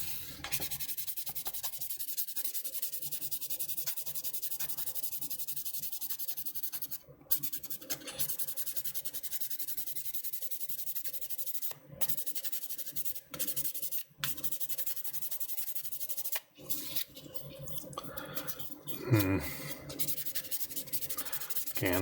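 Close-up sanding of a plastic MSM-07S Z'Gok model kit: a continuous dry scratching rub in long strokes, broken by a few short pauses, with no talk.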